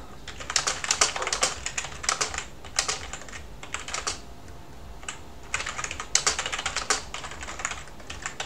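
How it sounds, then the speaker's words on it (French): Fingers typing on a computer keyboard in bursts of rapid, close key clicks separated by short pauses, with no voices. "Donc, je vais taper un petit texte."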